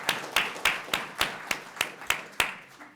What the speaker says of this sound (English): I think this is a big enough event they should get a second round of applause.